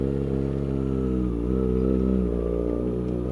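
A Kawasaki 600-class sport motorcycle hums steadily while riding, a close, droning engine note that swells slightly midway before settling, with no voices.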